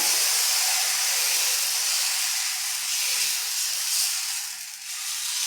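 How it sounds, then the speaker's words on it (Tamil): Dosa batter hisses and sizzles steadily on a hot pan while it is spread thin, a loud continuous broadband sizzle that dips briefly near the end. "நடுவில் அப்படி ஊற்றிட்டு மெலிசாக அப்படியே தேய்ச்சி விடுங்க."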